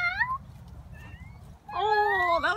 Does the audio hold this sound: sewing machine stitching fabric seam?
no